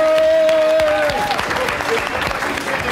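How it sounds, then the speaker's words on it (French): A French television studio audience applauds on a talk show, a burst of clapping that starts loud over a fading musical tone and thins out, with a voice briefly heard. "On l'applaudit."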